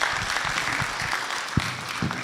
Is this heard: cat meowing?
no